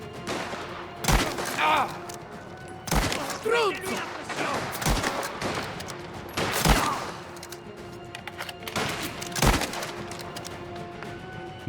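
Gunfire in the video game Mafia, including a sniper, cracking in several loud separate shots spread across the clip among other game sounds, with brief voices and an exclamation in between.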